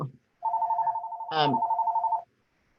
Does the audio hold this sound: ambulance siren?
no